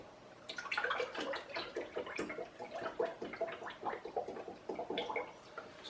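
Vanilla-flavored almond milk poured into a smoothie cup up to the max line, a steady gurgling, splashing stream for about five seconds, close and alone.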